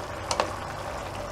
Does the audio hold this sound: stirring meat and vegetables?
yes